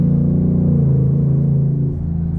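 A Ford truck with a Coyote V8 rumbles loud and close with a deep, steady throb that eases slightly toward the end.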